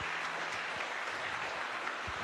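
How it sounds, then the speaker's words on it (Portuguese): Church congregation applauding during a worship service, a steady wash of clapping filling the room without a break, moderately loud and continuous, with no clear speech over it. "Aplauda o Senhor por essas vidas."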